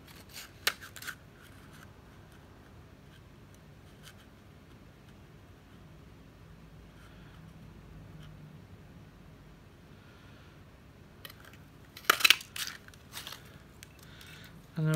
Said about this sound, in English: So then I'll use my punch and line it up.